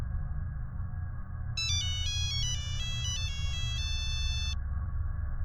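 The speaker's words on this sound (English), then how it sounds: "the phone rang again" A phone ringtone plays alone: a bright, repeating electronic melody of rapid tones lasting a few seconds, clear and fairly loud over a steady low room hum.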